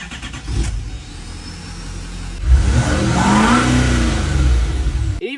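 A diesel LML Duramax pickup truck engine cranks, catches and revs up, with the mid-pitched engine rising and holding a strong, close roar before dropping at the end.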